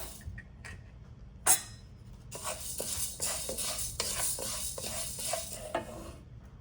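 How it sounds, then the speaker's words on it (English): Urad dal dry-roasting in a thick-bottomed pan, with a quiet scraping and stirring rattle, small clinks of utensil against metal, and a soft background sizzle. "Now I'm dry roasting the urad dal."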